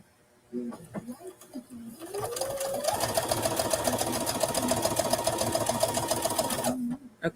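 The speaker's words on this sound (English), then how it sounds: "I've got to go back to center because I'm stitching on the line." Sewing machine stitching a quilt, a fast steady rattling run of stitches for several seconds after a few short bursts, close and clear, then stopping; a person speaks briefly around it.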